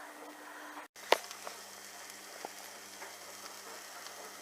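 Lemon rind and ginger fry in a pan with a steady, soft sizzle that runs throughout, broken by one sharp clink near the start and a few faint clicks.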